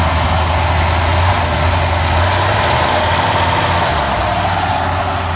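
A cold-started Cadillac engine, with its distributor cap pulled and pickup coil wires tugged, settles into a loud, steady idle with an even rumble and no pauses or voices.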